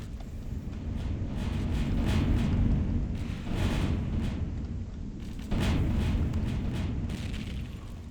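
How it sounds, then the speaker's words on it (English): Big explosions thunder in a space battle in the video game Empyrion, a series of deep booming blasts and rumbling bursts that swell and fade over a continuous low roar, loud and without speech. "There are definitely big explosions happening."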